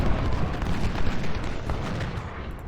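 Sniper rifle fire from wooded cover in the Civil War strategy game Ultimate General: Civil War, a loud continuous rumble of overlapping distant musket and gun reports blending into a dense roar, with no talking.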